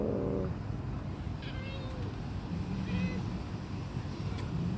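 A cat meows a few times in a noisy, busy setting, the calls thin and fairly faint against steady background rumble.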